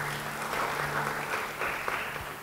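Congregation applauding at a church service, a steady wash of clapping that runs evenly throughout with a low hum beneath and no voices.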